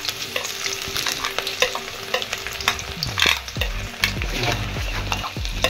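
Chopped ginger and garlic frying in a hot pan over lowered flame, with a steady close sizzle, repeated scraping strokes of a spoon stirring and a few sharper clinks against the pan.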